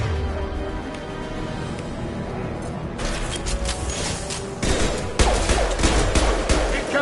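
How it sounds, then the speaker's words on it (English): Impact-shot gunfire in a sci-fi video game, a dense fusillade of rapid sharp shots that starts abruptly partway through and grows louder and thicker toward the end, close and continuous. "Firing an impact shot."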